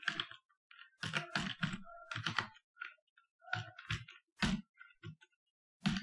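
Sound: typing on a computer keyboard

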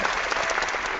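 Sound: applause for a hangout participant

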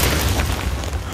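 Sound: explosion in video game Days Gone

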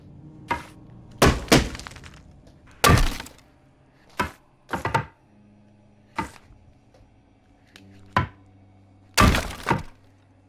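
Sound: glass smashing, The Walking Dead: Saints & Sinners video game

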